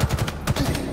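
Rapid automatic weapon fire during a boss fight in the game Halo Infinite, a loud continuous stream of quick shots with a brief dip midway.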